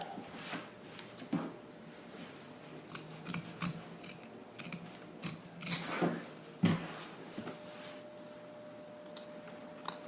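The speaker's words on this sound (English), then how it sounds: "Now it's time to cut our pattern out of our fur." Scissors snipping through fur fabric for an armadillo puppet, a run of close, crisp cuts at an uneven pace with brief pauses and rustling between them, no voices.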